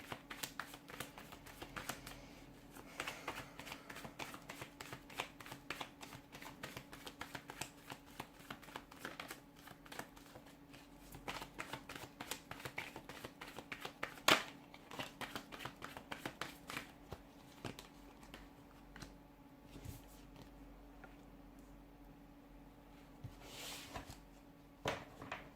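A tarot deck being shuffled and cards drawn, giving a steady, close run of papery riffles, slaps and flicks that continues for the whole stretch with no talking.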